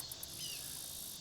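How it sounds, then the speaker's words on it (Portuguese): Cicadas in sunny scrubland beside a house under construction, a faint, continuous high-pitched buzzing drone that holds steady without a break. "E as cigarras."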